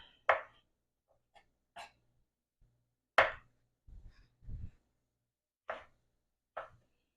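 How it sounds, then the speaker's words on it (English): Mushrooms, a mix of shiitake and blue oyster, chopped with a knife on a cutting board into bite-sized pieces: about half a dozen sharp, separate thuds spaced irregularly, close and fairly loud against a quiet kitchen. "And I'm just chopping it up into bite-sized pieces."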